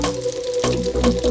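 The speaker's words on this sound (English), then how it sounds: "Start forming the fritters with the spoon and add to the oil." Spoonfuls of zucchini fritter batter drop into hot deep fryer oil, giving close, loud bubbling and wet sizzling with two sharp splashy bursts.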